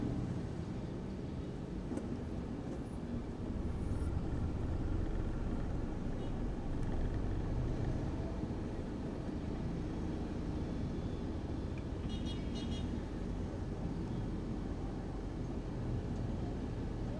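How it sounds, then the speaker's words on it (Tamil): Steady, broad roar of heavy city traffic in Coimbatore close by, a continuous rumble of passing vehicles with no pauses, loud throughout. "சரியான டிராஃபிக்காக இருக்குதுங்க."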